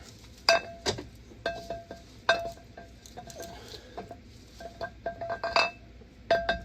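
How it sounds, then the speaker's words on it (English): An empty brake caliper from a BMW big-brake upgrade on an E61 wagon is hung in place, producing a series of sharp, close metallic clinks and taps at irregular intervals. "So we're just going to hang an empty caliper."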